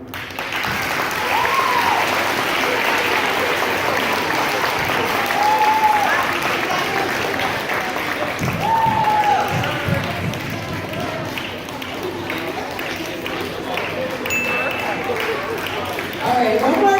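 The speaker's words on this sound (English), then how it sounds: "one more round of applause for Mr. Sliker" Middle school students, seventh and eighth graders, applaud a guest speaker in a long, sustained burst of clapping with cheers and whoops rising over it, and voices are heard calling out amid the noise.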